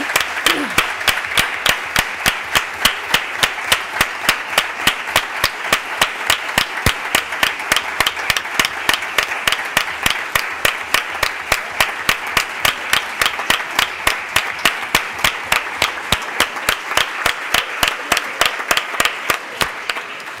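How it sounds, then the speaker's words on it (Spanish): A children's municipal council session in a council chamber ends in a long round of rhythmic, unison clapping, with a steady beat of sharp claps that holds evenly for about twenty seconds. "Penso que es mereixen un fort aplaudiment"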